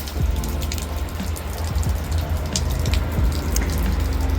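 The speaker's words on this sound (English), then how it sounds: "Oh, it's all dripping from the roof." Water drips from cracks in a rock overhang above a park playground by the lower cascades, a steady patter of scattered drops that sounds close and rain-like.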